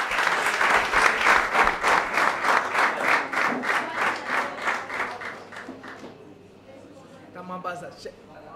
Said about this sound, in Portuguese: aplausos para Ney de Van Dune